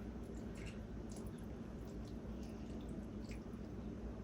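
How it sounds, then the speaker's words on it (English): Low carb brownie batter being stirred in a bowl, with soft wet squishing and sloshing under a steady background hiss, quiet and continuous, no talking. "And let's give that a stir."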